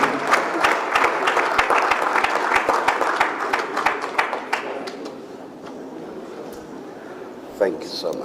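A louder round of applause for an archbishop fills a Nigerian Independence Day gathering with presidential candidates, many hands clapping steadily before thinning and fading into a few scattered claps.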